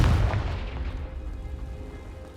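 A Confringo blasting spell explodes in Hogwarts Legacy, a single deep boom at the start that rumbles and decays over a couple of seconds, alone without talk.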